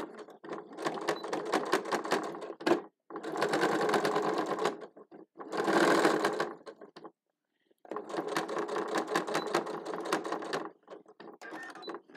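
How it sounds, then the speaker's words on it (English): A sewing machine top stitches a two-toned winter hat, running in three long bursts of rapid, even needle clatter separated by short pauses, close and loud with no talk over it. "I am going to just give it a teeny tiny top stitch here."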